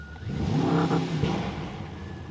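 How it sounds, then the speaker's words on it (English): A 2024 Mercedes S930 Brabus with a 930 hp V8 accelerates hard, its engine note mixed with the synthetic interior sound. The revving swells quickly and peaks, then settles into a steady, moderately loud hum. "you have the engine sound, obviously, and you have the fake interior sound as soon as you really push it"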